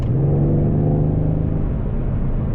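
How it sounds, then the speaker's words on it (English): A Mercedes-AMG C63 S exhaust rumbles steadily and loudly while driving, a deep throaty drone with no pops, close to the microphone. "you can just hear the exhaust really"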